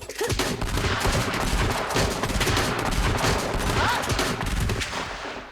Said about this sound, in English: the shots are not coming out fast enough